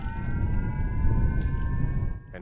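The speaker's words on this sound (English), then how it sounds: "At the sound of the siren," A civil defense siren wails during a Japanese missile evacuation drill, a sustained, steady tone heard at moderate distance over a rumbling background, cutting off near the end.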